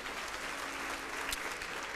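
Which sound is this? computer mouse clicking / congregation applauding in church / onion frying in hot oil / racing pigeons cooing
congregation applauding in church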